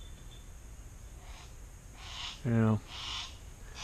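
A trained hunting bird gives a single short, harsh descending call at close range, with soft breathing and a brief spoken word nearby.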